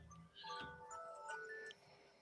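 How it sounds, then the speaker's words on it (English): A phone alarm ringing, a bright repeating electronic melody of rising and falling beeps that plays steadily for about two seconds, fairly close and loud. "Yeah, that's my alarm."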